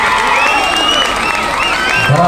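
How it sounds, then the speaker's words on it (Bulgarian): An audience applauds and cheers at an outdoor festival of the 100 voivodes in Sliven in 2023, with a steady wash of clapping under a loud voice and crowd noise. "Аплодисменти!"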